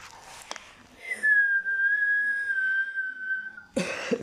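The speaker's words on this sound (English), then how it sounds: "Okay, no, I don't like whistling." A single sustained whistle, a clear steady tone held for about two and a half seconds, with faint clicks and rustles around it and a burst of noise at the end, heard during a mobile shooter game session.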